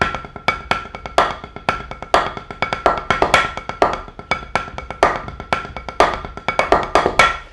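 Drum set groove built from paradiddle sticking, dense sharp strokes with accented backbeat hits and bass thumps in a fast repeating pattern, played solo and close.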